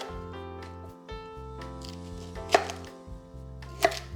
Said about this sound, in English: just cut it in half this way and just place it into a bowl